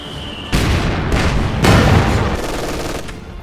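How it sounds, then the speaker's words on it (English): Anti-tank gun firing in Company of Heroes 2, a loud sharp boom at about half a second followed by a second heavy blast, with sustained battle noise and rumble continuing throughout. "Going to be force firing the anti-tank gun"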